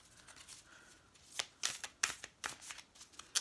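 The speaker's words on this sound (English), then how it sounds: "get a nice rifle shuffle on these guys as well" Playing cards are riffle shuffled up close, a rapid fluttering ripple followed by several crisp snaps and riffles in quick succession.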